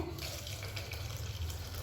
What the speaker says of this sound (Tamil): நான் சுடுதண்ணி சேர்க்குறேன்.